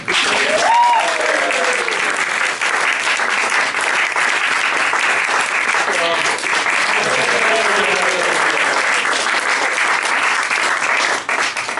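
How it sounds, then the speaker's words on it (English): Wedding guests applaud the bride at a reception during a best man's speech. The clapping is loud, dense and sustained for nearly twelve seconds, and faint voices and whoops rise through it. "And also, obviously, a round of applause for Anna for being such a beautiful bride."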